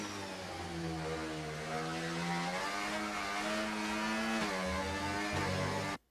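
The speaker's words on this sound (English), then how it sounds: "you should actually hear the RPM drop on its rev" Racing car engine in F1 24 at full speed, heard from the third-person camera: a steady, loud high-pitched whine whose pitch eases down as revs drop, then cuts off abruptly at the end.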